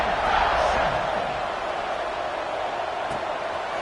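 A football stadium crowd roars at a college game kickoff, Tech at Ole Miss, a broad sustained wall of cheering that swells at the start and holds loud throughout with no clear voices standing out.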